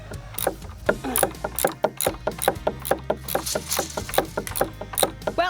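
A hand ratchet clicks in a quick, steady rhythm as bolts are driven tight into wood during a shed-to-house conversion, the pawl ticks sounding close and crisp with short pauses between strokes.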